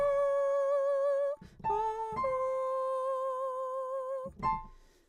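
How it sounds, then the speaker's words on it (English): A pure, sustained musical interval, a major third: a low note holds alone, a higher note is added, then both ring together as one steady two-note interval, with brief soft knocks between notes and no voice. "A major third would sound like this."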